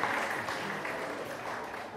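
A round of audience applause at a Pecha Kucha presentation night at the Saligao Institute, steady dense clapping at moderate distance for the full two seconds, with no speech over it.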